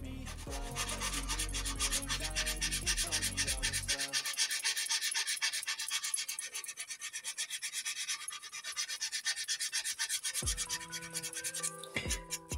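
Sandpaper rubbing on the wooden planking of a San Juan model ship, a soft raspy scratching that runs steadily and close, with some tonal background sound at the start and end.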